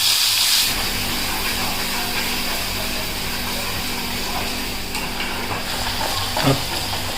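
Spices sizzling steadily in hot oil in a home kitchen, a continuous close frying hiss with a brief louder spatter near the end.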